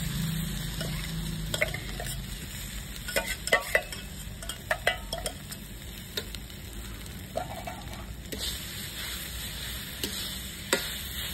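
Potatoes stirred and frying with spices in a pan, a steady sizzle under scraping spoon strokes and scattered clinks, close up, no talking.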